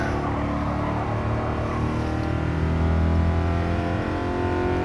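A 2014 Honda Fit accelerates hard on a race track after a downshift on the last turn, its engine droning loud and steady with rising revs throughout, heard close from inside the car.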